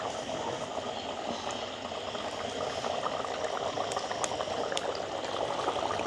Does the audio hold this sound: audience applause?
no